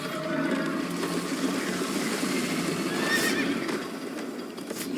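Horse in Minecraft Story Mode neighing and whinnying over a continuous rushing wash of galloping movement, the whinny rising clearly near the middle, close and steady throughout, no talking.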